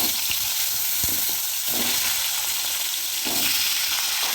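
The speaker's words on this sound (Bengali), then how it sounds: "এই যে কালো জিরে ফোড়ন দিয়ে নিচ্ছি, এই যে শুকনো লঙ্কা, একটা তেজপাতা দিয়ে নিলাম" Black cumin seeds, dried red chili and a bay leaf sizzle loudly in hot oil for a Bengali hilsa curry with potato and eggplant, a dense steady crackle close up with a couple of brief pops and no voices.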